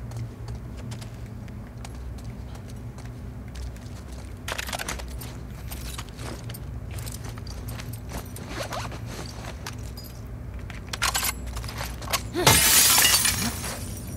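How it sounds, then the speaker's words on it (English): Glass breaking under an elbow strike in The Last of Us Part II: a sharp, loud crash with scattering shards near the end, standing out over a low steady game ambience. "Just gonna elbow some glass"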